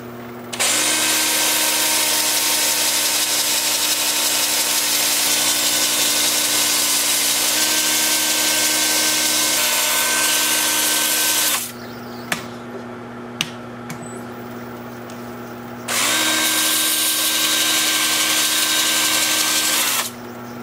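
A lathe whirs loudly with a steady hum and scratchy texture of a wooden bowl being sanded, stopping briefly in the middle, then spinning up again.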